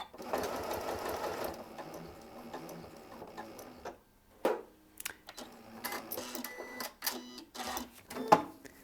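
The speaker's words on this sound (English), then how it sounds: "when you're done sewing, simply push the reverse key and keep your foot down on the pedal until it stops by itself" A Janome M8 sewing machine runs a fast stretch of stitching, then sews reverse stitches in short, separate mechanical bursts. It sounds close and fairly loud and stops on its own near the end, with no one talking.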